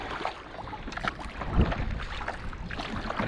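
A kayak is paddled across a canal on an eco tour, with soft splashing strokes, water swishing along the hull and a light wind buffet on the microphone, one stroke louder near the middle.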